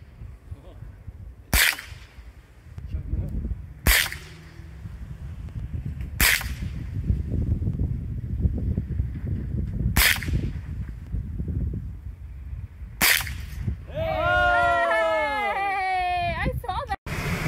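.22 caliber rifle shots ring out at a can on a San Bernardino National Forest range: five sharp, evenly spaced cracks about two seconds apart amid outdoor background noise, followed by a burst of bird chirps.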